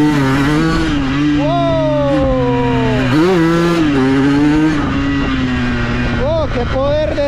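A motorcycle fitted with a Yamaha YZ 125 ignition revs hard through the gears, its loud, buzzing engine note rising and dropping with each shift, close by and continuous.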